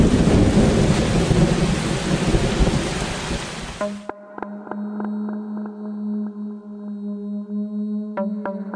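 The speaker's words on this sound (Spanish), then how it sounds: "permitiendo que la tormenta se extendiera poco a poco sobre mí." Heavy rain pours in a loud, dense rush with a rolling thunderstorm for about four seconds, then cuts abruptly to a quiet sustained tonal hum.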